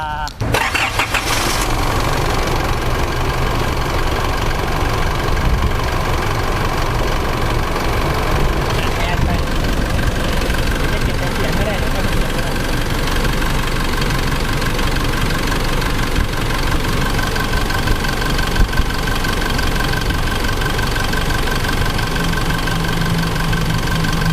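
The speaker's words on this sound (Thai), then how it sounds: "ไปฟังเสียงเครื่องยนต์กันหน่อยดีกว่า" A 2013 Isuzu MU-X 3.0 4WD automatic with 80,000 km cranks and catches, then settles into a steady, close, loud idle that runs throughout, with a person talking over it.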